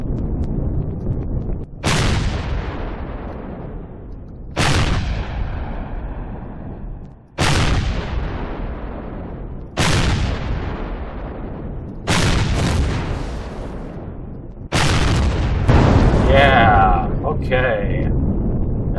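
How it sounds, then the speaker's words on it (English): Rocket fire and explosions in an Empyrion space dogfight: six loud, sharp blasts land about every two and a half seconds, each decaying into a rumble, the last one joined by crackling debris. "So we can hit him with rockets."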